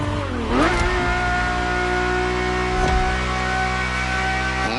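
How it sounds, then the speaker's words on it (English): A car engine in the driving game The Crew, heard from inside the cabin, hums steadily with two quick revs that rise and drop in pitch, close and fairly loud, with no talking. "And the car's voice sounds even better from inside."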